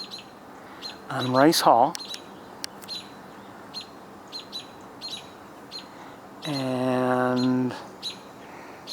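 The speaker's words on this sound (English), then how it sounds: "the robins are voicing their objections" American robins call in two loud harmonic bursts near a college building during a red-tailed hawk nesting season, with someone speaking quietly between them.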